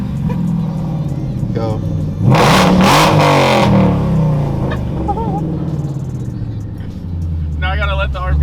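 A Whipple-supercharged Ford Mustang GT V8 on E85 idles steadily, then blips into a loud rev that lingers before dropping back to idle, close by, with people talking over it.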